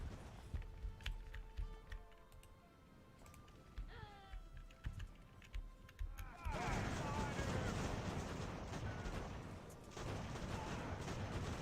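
Cannon fire from guns in Ultimate Admiral Age of Sail, with scattered booming shots over ambient battle noise at first, then a dense, sustained roar of volleys and smoke-filled fire that fills the rest.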